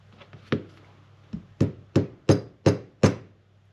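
Hammer tapping a dowel into a machined metal whistle, with several light taps followed by five evenly spaced, firmer knocks, each sharp and close with a short ringing decay.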